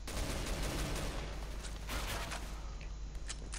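Gunfire in a CS:GO match on the Office map, a dense burst of rapid shots and fusillade crackle running continuously, loud and close throughout.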